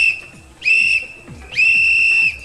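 An emergency whistle blows in two long shrill blasts, loud and close, carried for earthquake rescue; a second blast is held steadily, with faint low thumps beneath.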